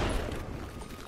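Explosions going off in the artillery video game Worms, a dense, loud burst of overlapping blasts and booms filling the whole second with no talking.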